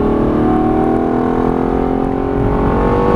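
A Lexus LFA accelerating hard on the Silverstone race track, a steady high-pitched engine wail climbing slowly in pitch, loud and close as if from inside the car, with no talking.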